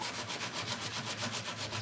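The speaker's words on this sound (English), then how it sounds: "So what I'm doing here is I'm just sanding where the old handles were." Sandpaper worked over old, paint-crusted furniture wood where handles used to be, giving a steady back-and-forth scratchy rubbing in an even rhythm, close and moderately loud, with no talking.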